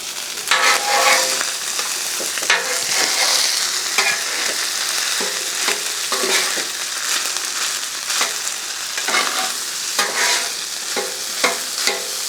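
Pork, vegetables and rice fry and get stirred together on a hot Blackstone griddle, a steady close sizzle broken by repeated scraping and clacking of a spatula.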